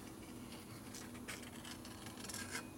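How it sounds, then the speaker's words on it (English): Hand deburring tool rasping the sharp edge of a port on a 2005 Harley-Davidson Sportster XL 1200 cylinder head, a steady close scraping rub that keeps going with small strokes and no talk. "got a little bit of a sharp edge on here now. Just deburr a little bit with this."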